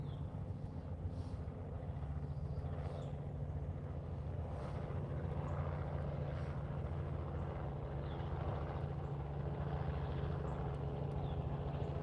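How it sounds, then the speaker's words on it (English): A helicopter circles overhead above a campsite, heard as a steady, faint, distant low drone that carries on without a break. "There's a helicopter circling above my camp"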